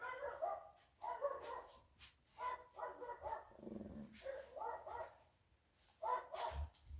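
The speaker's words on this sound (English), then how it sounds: "Dogs barking." Dogs bark in steady bursts of several barks each with short gaps between, fairly close and moderately loud, with no one talking over them.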